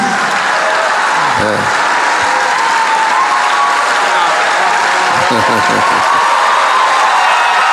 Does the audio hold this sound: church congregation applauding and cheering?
yes